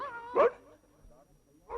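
A single short dog bark or yelp in a Hindi radio play, close and fairly loud, followed by a quiet pause and the start of another sound at the end.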